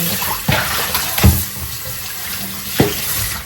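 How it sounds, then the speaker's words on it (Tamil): Leeks are rinsed under a running kitchen tap: a continuous splash of flowing water into a sink, broken by a few louder splashes and knocks as the vegetables are handled. "லிக்ஸை நாங்கள் கழுவி எடுத்துட்டோம்"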